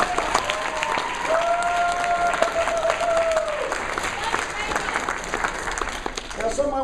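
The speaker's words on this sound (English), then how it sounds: "One more round of applause for all these guys." Audience applause fills a closing ceremony, a steady wash of clapping from a crowd that continues throughout, with brief voices and whistle-like tones rising over it.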